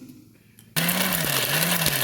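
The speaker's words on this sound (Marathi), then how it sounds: "शेंगदाणे, लसूण, ओले खोबरे, कोथिंबीर, शेंगदाणे हे मिक्सरला बारीक करून घ्यावे" A kitchen mixer grinder starts up abruptly and runs loud and steady, grinding peanuts, garlic, fresh coconut and coriander into a fine paste, its motor whine wavering slightly as the load shifts.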